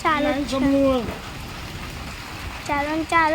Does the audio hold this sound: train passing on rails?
no